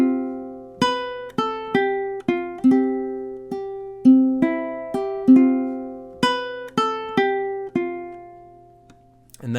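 Measures 21 through 24 of a song picked on ukulele, a flowing run of about sixteen bright plucked notes in a gentle repeating pattern, close and clean, closing with a soft fade.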